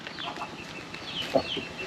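Chickens cluck softly and intermittently at a rural Thai home, with a slightly louder squawk near the middle, set against faint outdoor background noise.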